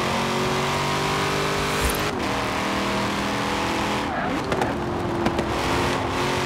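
The Quadra V-Tech car in the video game Forza Horizon 4 drones with a continuous loud engine tone over road noise, shifting pitch around two seconds and again near four seconds, while a voice speaks briefly over it.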